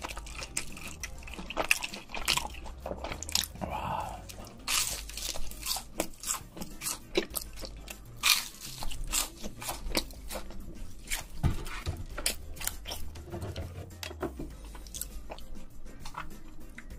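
Loud crunchy chewing of a big bite of food recorded very close, with repeated crisp bites and wet mastication sounds continuing steadily and no talking.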